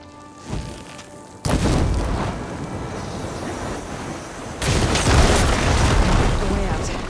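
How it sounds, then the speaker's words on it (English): Blaze barrels in Horizon Forbidden West detonate after being struck with fire ammo, two loud booming blasts, the first at about 1.5 seconds and a second swelling roar near 4.7 seconds, each followed by a sustained rumbling, crackling wash of fire. "Hitting those blaze barrels with fire ammo should do the trick"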